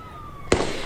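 A single sharp gunshot cracks out in news footage of the Bondi Beach mass shooting, a sudden loud bang over a low background hum, followed by a brief echoing tail.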